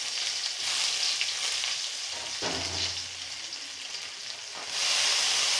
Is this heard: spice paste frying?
yes